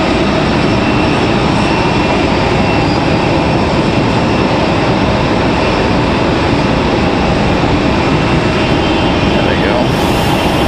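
An American Airlines jet airliner departing Raleigh-Durham, its engines giving a loud, steady broadband roar that holds at full strength throughout, close and continuous with no pauses.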